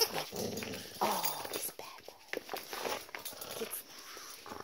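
A dog growls and grumbles in bursts, rising into brief whiny yips, fairly close and loud.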